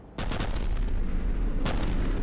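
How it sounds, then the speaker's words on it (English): A Cerberus cannon fires in Mass Effect 3, two heavy booming blasts about a second and a half apart over a rumbling battlefield backdrop. "Looks like Cerberus got that cannon operational, Commander."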